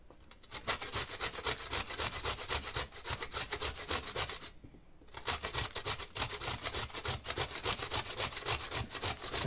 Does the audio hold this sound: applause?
no